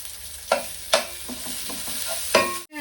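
Coconut masala fries in ghee, a steady sizzle broken by several distinct stirring scrapes and taps from close up, with no talk.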